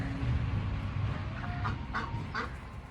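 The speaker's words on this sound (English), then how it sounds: "She's a khaki Campbell duck." A khaki Campbell duck on a farm near a fence, giving a few soft, short calls in the second half over a steady outdoor background hum, fairly close but not loud.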